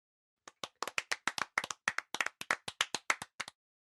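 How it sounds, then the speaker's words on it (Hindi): Children in a classroom clap together in a quick, rhythmic run of about twenty sharp, distinct claps lasting a few seconds, then it stops. "तालियां।"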